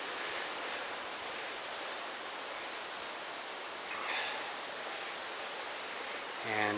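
Willow Creek spills over a rocky edge into a mountain waterfall above a lake, giving a steady, broad rushing roar that holds even throughout, with a brief swell near the end.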